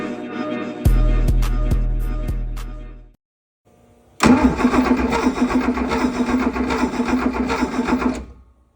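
An abandoned Porsche 911, unused for 35 years, cranks over in a few loud rhythmic starter pulses, falls silent for a moment, then catches and runs with a rough, steady, fairly close engine note.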